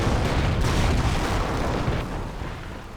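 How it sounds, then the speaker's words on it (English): Stuka rocket explosions in the WWII strategy game Company of Heroes, a dense rumbling barrage of booming blasts that rolls on loudly before easing off slightly toward the end. "More Stukas, more rockets."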